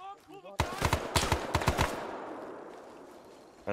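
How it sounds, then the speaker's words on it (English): Rapid bursts of gunfire in the video game Mike Force crack out in quick succession, loud and close, then fade into a lingering echo. "Gunfire."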